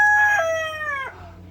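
A single Silkie rooster crows once, close and clear, its call rising and then falling away at the end.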